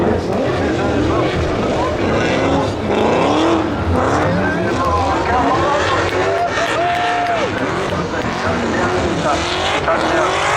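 A 700hp competition car skids across grass in a handbrake drag, its engine roaring loudly with tire and skid noise while voices talk over the top.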